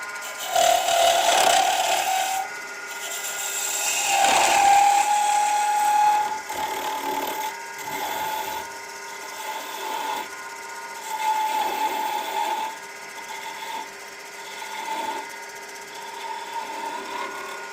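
A wood lathe turns a top while a tool cuts the taper on its face, giving a continuous whirring hum with scraping, buzzing cutting passes that rise and fall as the tool engages.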